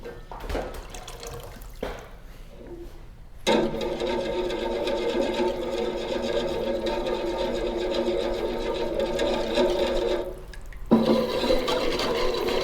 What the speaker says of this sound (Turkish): Suyumu 2 litre ılık suyumu ilave ediyorum.